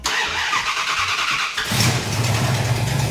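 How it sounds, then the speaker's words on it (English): A Chrysler 440 big-block V8 cranks with the starter whirring, then catches and roars to life, settling into a loud, deep, rumbling idle close by. "So this actually has a Chrysler 440 V8 in it, big block."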